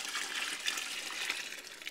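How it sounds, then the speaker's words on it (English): A melted homemade laundry soap mixture pouring into a container, a continuous close liquid gush and splash that stays fairly even throughout, with no voices. "now we're going to add our melted soap"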